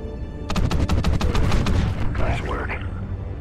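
Underwater gunfire in the Call of Duty Ghosts level Into the Deep: a fast burst of muffled, thudding shots in a rapid regular series over a rumbling underwater ambience, fading into bubbly watery sounds, loud and close.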